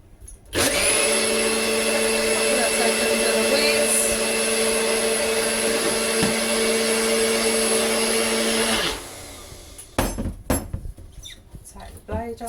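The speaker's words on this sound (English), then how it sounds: "Pop a blade on it and I give it a whiz. I always use the NutriBullet" NutriBullet blender whizzing a protein shake, a loud steady motor whine that starts abruptly, holds for about eight seconds, then cuts off, followed by a few clicks and handling sounds.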